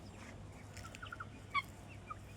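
Guinea fowl and chickens foraging make soft, scattered clucks and chirps, with one sharper call standing out midway, against quiet outdoor background.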